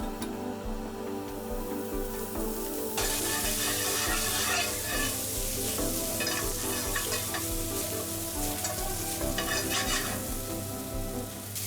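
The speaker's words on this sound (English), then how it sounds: "Fry the onions and carrots a little in the pan, add some sunflower oil." Onions and carrots frying in sunflower oil in a pan, a loud, steady sizzle close up that grows denser partway through as the vegetables are stirred, with no talking.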